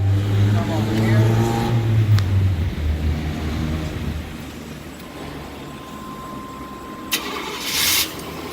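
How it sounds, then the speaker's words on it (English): A car engine cranks and starts, then settles into a steady idle, with a person talking over it and a few clicks and knocks near the end. "Join me now while I turn the key in the ignition so that you can see this vehicle running"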